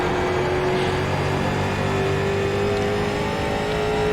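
A street stock race car engine in iRacing drones at a steady, loud pitch with a continuous rising tone as it holds speed on track, with no voices over it.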